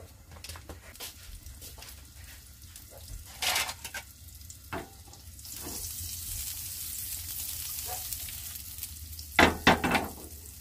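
Margarine melts and sizzles in a pan as fried rice begins, a soft crackle rising and growing steadier midway, broken by a few clinks and scrapes of utensils nearby.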